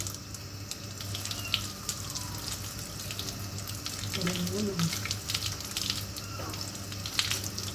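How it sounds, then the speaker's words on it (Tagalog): Water runs steadily from an open faucet, likely filling a tub or sink for bathing a pet cat, a continuous faint wash heard close by under some background voices. "Open the faucet"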